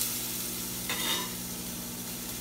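Onions and garlic saute in oil with a faint, steady sizzle and a brief scrape of stirring partway through. The sound is quiet and short, with no talking.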